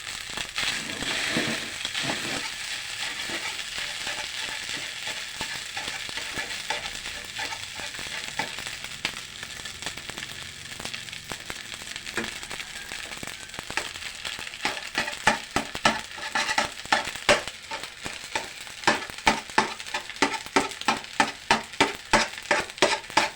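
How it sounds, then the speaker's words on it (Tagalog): Eggs fry in a pan with garlic for Filipino garlic fried rice, a continuous loud sizzle that turns into sharper, popping crackles toward the end, with no talking. "Lagyan natin ng konting itlog."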